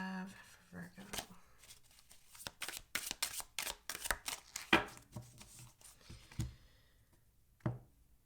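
Tarot cards being shuffled by hand, a busy run of riffling slaps and taps with a few cards dropping out, close and fairly quiet, with a short spoken remark early on.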